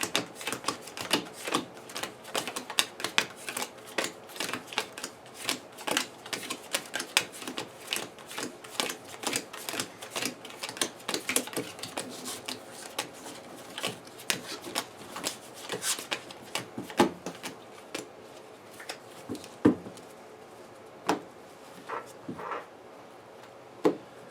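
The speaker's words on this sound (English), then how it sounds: "why don't we shuffle Valkyrie and Vision one more time" Marvel Champions playing cards are shuffled by hand in a long run of quiet riffling and rapid flicking, with crisp clicks and soft pauses between passes.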